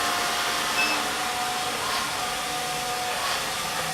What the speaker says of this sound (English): right now the vacuum motor is on